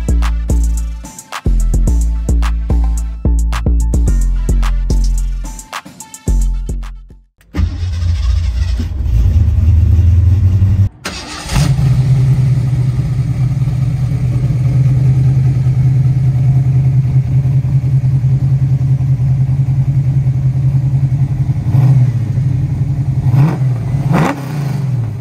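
A 1969 Ford Mustang Mach 1 with a 351 stroker V8 rumbles loudly after a stretch of music, with a sharp rev and then a steady, deep engine drone as it pulls away and drives, close and dominant.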